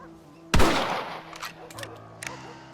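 A single loud rifle shot fired in the Western video game Red Dead Redemption cracks out sharply near the start, then its echo and rumble fade into a quiet, low-humming background.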